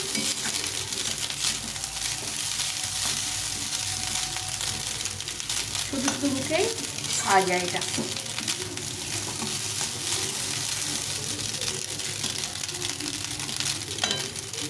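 Fried rice sizzles in a pan as it is stirred, with a steady frying hiss and a few scraping stirs near the middle, while a person speaks briefly.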